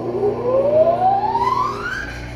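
A rebuilt electric motor, wired in a 1-delta 2-Y constant-horsepower connection, spins up to high speed on a test run, giving a loud, steady whine that rises smoothly in pitch over a constant hum.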